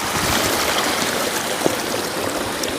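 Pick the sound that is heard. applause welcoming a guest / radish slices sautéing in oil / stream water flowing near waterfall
stream water flowing near waterfall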